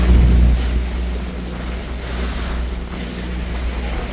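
Rough sea in Sarangani Bay pounds against a boat, heard as a loud rushing wash of waves and wind buffeting the microphone, strongest at the start and then a steady roar.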